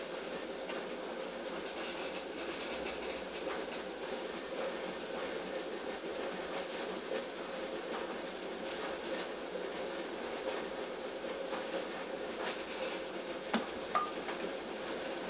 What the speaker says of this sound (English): the noise that you hear in the background is my canner going